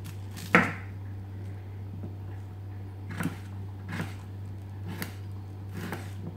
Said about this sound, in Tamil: இந்த மாதிரி கட் பண்ணி எடுத்துக்கலாம்.